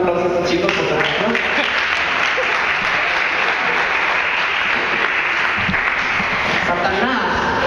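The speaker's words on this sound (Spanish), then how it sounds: "denle un aplauso a estos chicos por su oración" A church congregation applauds young people after their prayer, dense sustained clapping filling the whole stretch at a loud even level, with voices mixed in.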